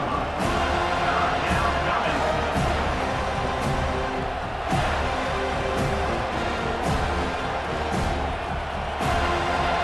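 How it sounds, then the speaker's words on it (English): Home stadium crowd in College Football 25 roars steadily on a third down, with swelling bursts of cheering rising and falling over a continuous wash of noise. "Here comes this home crowd as the defense tries to get off the field on third down"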